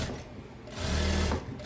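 A sewing machine topstitching a viscose dress with a square neckline, heard as a short, close, steady mechanical whir of stitching that runs for about half a second between quieter handling noise.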